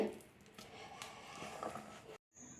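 Wet squishing and patting as watermelon rind and prawn mash are kneaded by hand, a soft continuous squelch with faint slaps over about two seconds, then a brief silence before a thin high tone.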